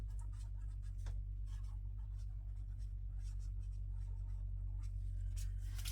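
A yellow marker scratches across bullet journal paper in short repeated strokes, close and quiet over a steady low hum.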